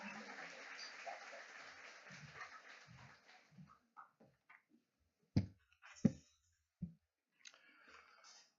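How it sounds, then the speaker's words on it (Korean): Applause from a church congregation welcoming a speaker fills the opening seconds and fades out, leaving a few scattered clicks and knocks in a quiet room. "여러분 박수로 맞이해 주시기 바랍니다"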